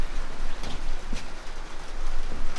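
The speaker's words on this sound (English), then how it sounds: "the rain has kicked off, which is frustrating" Steady rain falls outdoors on a lawn, a dense, even hiss close by with occasional heavier drips, and no voices.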